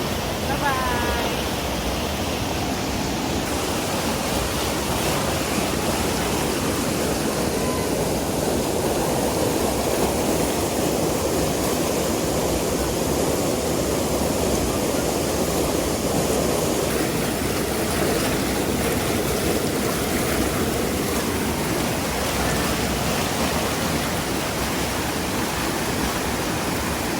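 The waterfall at Curug Leuwi Asih in Sentul, Bogor, near a river, roars as a loud, continuous rush of falling water that stays broad and steady throughout.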